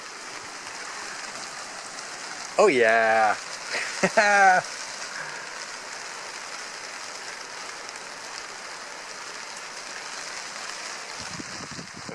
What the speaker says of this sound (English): I think this is the rain we've been looking for.